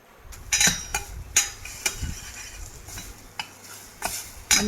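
A spoon stirs turmeric, chili powder and salt into a sizzling bottle gourd curry in a pan, with several scraping and clinking strokes over a soft frying hiss.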